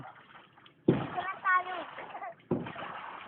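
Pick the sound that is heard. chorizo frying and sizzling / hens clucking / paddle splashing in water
paddle splashing in water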